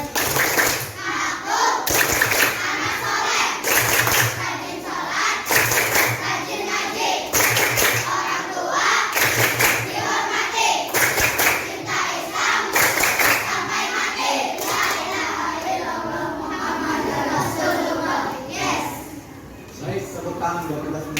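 A school class performs the 'tepuk anak soleh' chant-and-clap routine, with a group of voices chanting loudly in unison over rhythmic bursts of hand clapping, steady and energetic throughout.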